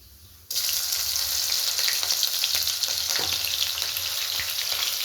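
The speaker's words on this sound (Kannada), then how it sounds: "ಜೀರಿಗೆ ಹಾಕೋತಾ ಇದ್ದೀನಿ. ಸೀಳಿರೋ ಮೆಣಸಿನ್ಕಾಯಿ ಹಾಕೋತಾ ಇದ್ದೀನಿ." Cumin seeds and slit green chillies drop into hot oil at about half a second, setting off a loud, steady sizzle with crackling pops that continues to the end. A curry of hyacinth beans is being cooked, and no one speaks.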